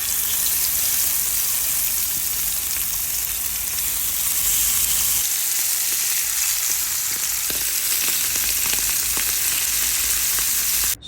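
Chapila fish frying with salt, turmeric and chili in hot oil, a steady dense sizzle with crackling pops running throughout, close and loud, with no voices.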